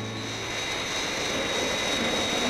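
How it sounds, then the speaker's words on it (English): An airplane's engine drones steadily as the aircraft turns in a scene from a Thunderbirds episode, a loud, continuous jet roar with no talking. "The plane is turning, okay."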